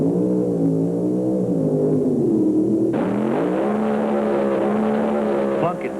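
A 1,750-horsepower Hemi-engined Plymouth Satellite drag racing car at a drag strip: a loud, sustained engine drone whose pitch climbs and shifts midway, heard under a commentator's voice.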